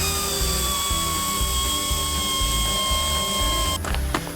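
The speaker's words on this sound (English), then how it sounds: "We are using an air wrench, but it's the smaller 1/4-inch air wrench" A small 1/4-inch air wrench with a 10 mm socket on a 1/4-inch extension buzzes steadily and close up, removing fender bolts on a Jeep JK. The whine holds continuously for several seconds, then cuts off into a few sharp clicks and knocks.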